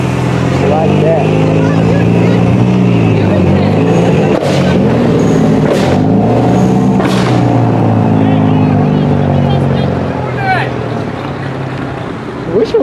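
Engines at a park-and-ride car meet with Subarus and a Mustang, a loud rumbling rev rising and falling over steady idling, with people talking nearby throughout.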